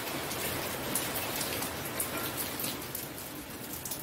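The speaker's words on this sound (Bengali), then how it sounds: "দেখো বৃষ্টি নেমে গেছে" Steady rain falls in the morning, a dense, even hiss of drops on surfaces that stays close and continuous without any voices.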